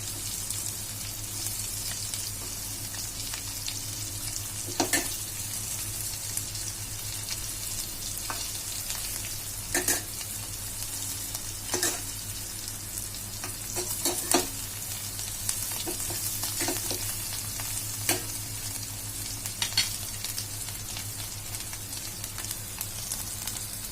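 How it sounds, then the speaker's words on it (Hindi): Arbi (taro) tikki crisping in a little oil with spices, a steady close sizzle and crackle running throughout with occasional sharper pops and spatters. "ये मसालों को क्रिस्प करने तक हमने थोड़े से तेल में डाला है"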